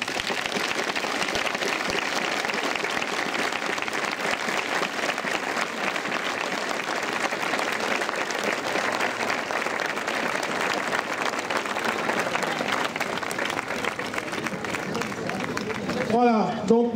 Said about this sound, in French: applaudissez-vous et bon sport